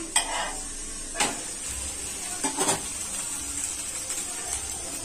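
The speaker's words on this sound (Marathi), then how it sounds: "आता आपण ह्याला पलटी घालूया।" A fasting (upvas) dosa frying on a pan, with a steady soft sizzle and a few sharp scraping clicks of a spatula as it is turned, all fairly close and without talk.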